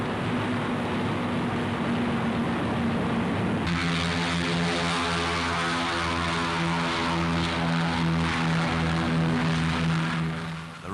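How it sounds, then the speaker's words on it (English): WWII heavy American bombers fly with propellers whirring, a loud sustained drone that thickens into layered, rhythmic engine tones partway through, before fading slightly at the end. "set a record for the number of heavy American bombers sent out from Britain in daylight"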